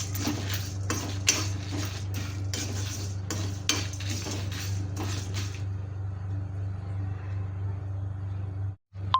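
Whole spices are dry-roasted on a tava for Chettinad-style liver fry, with a spoon repeatedly scraping and clinking against the metal. The stirring stops partway through, leaving a low steady hum.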